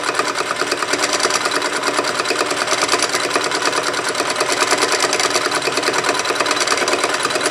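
Sewing machine running steadily with the presser foot down as it stitches fabric, a fast, even mechanical whirr and clatter close by that holds at the same loud level without pause.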